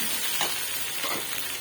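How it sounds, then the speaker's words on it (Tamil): Chicken and capsicum sautéing with ginger garlic paste in a pan, a close, steady frying sizzle with faint stirring scrapes running throughout. "நல்லா வதக்கட்டும்."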